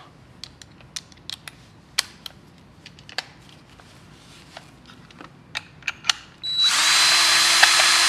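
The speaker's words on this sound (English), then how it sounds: "Let's just take this out quick with the drill." Light clicks and taps while a part is handled on a 3D printed winch-bot lead into a power drill that starts abruptly and whirs loudly and steadily for the last couple of seconds, close by.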